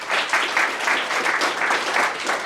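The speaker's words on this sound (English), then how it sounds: "So a nice round of applause for Heather." An audience at a public awareness meeting in Gettysburg, Pennsylvania, applauds a speaker being introduced, a steady, fairly loud wash of many hands clapping with slight rhythmic swells throughout.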